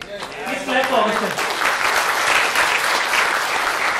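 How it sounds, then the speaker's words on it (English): An audience at a chief guest's talk breaks into steady clapping for Agostinho, starting just after a brief spoken phrase and holding at a full, even level to the end. "Please clap for Agostinho."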